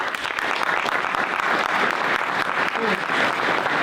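An audience gives a round of applause at an entrepreneur event, a loud dense continuous clapping wash close up, steady for the whole stretch with a faint voice briefly underneath.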